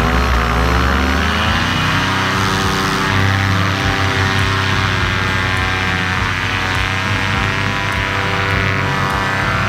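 A paramotor engine and propeller run loud and close, a steady droning roar with strong layered tones that climbs slightly in pitch as the throttle opens for takeoff at sunrise at Placida, with no talking over it.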